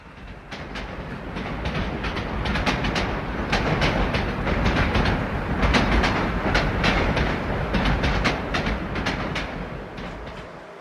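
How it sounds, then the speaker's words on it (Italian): An E646 electric train pulls out of the station on the first platform, a loud continuous rumble with rhythmic clattering of wheels over rail joints that builds and then eases slightly. "il treno E646 a Tivoli è in partenza al primo binario"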